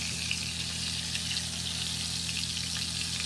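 Crispy chicken frying in a pan gives a steady, even sizzle with fine crackling spatter, close and continuous without any talk.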